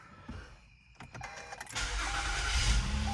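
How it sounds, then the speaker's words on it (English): A 2014 Acura RDX starts up: a few clicks and a brief crank, then a steady engine idle hum that grows louder and fuller and holds to the end, close by in a quiet cabin. "When I turn on the car"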